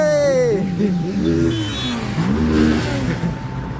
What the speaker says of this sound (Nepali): झन् भाइ पर्छ र ती बवाल बाइकहरू गयो